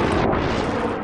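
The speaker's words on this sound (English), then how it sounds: "I'm gonna explode him with C4" A C4 charge detonates in Battlefield 3, a loud, dense blast that roars without a break for about a second, close and heavy with no voices over it.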